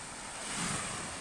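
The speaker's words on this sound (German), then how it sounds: "Wir nehmen nochmal das Meer auf" Sea waves wash onto the beach at Warnemünde, a soft, distant surf hiss with a slight swell in the middle, mixed with light wind noise and no voices.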